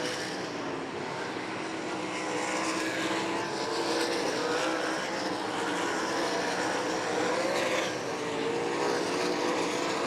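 Sprint cars roar through turns three and four on the oval at 34 Raceway during a racing A-main, producing a dense, continuous engine drone that swells slightly midway and holds loud throughout.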